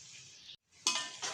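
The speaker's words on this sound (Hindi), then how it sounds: "फ्लेम पे इसे अच्छे से हम फ्राई कर लेंगे।" Peas and vegetables stir-fried for Chinese rice over medium to high flame, with a spatula scraping and clinking in the pan over a soft background sizzle, briefly dropping out before a louder burst of stirring.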